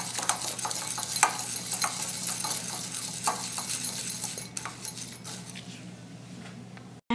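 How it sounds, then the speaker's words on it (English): A hamster honey treat mixture being stirred in a glass bowl, steady scraping and clinking strokes of the utensil against the glass repeating for several seconds, close and fairly quiet over a low steady hum. "Now mix your food thoroughly."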